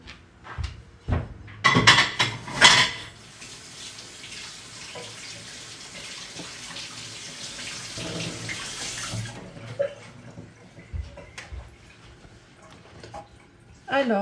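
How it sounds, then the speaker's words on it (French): A kitchen tap runs as hands are rinsed under the water, a steady hiss and splash lasting several seconds after a few clunks, with faint talk and small kitchen sounds around it. "Je me passe un coup les mains sous l'eau et j'arrive."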